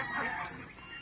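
Chickens cluck on a backyard farm where Rhode Island hens and turkeys are kept, a short burst of low, muffled fowl calls close by with a steady hiss behind it.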